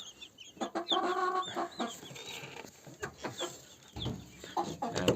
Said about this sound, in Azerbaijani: Size balaca cücelərimi göstereceğim.